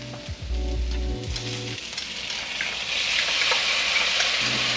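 Stir-fry ingredients sizzle in a hot pan with ginger, garlic and green onion, a steady close crackle broken by a few low clanks of stirring early on and again near the end.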